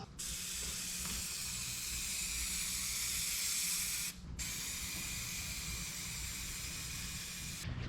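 Close, continuous hiss of a color-match aerosol rattle can spraying paint onto a 1984 S-10 truck part, one long burst and then a short break before a second long burst.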